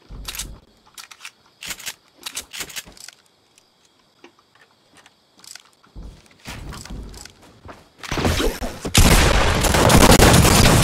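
Gunfire from a new gun in a video game: a scatter of sharp, separate shots over the first few seconds, then a dense, loud, continuous burst of firing near the end.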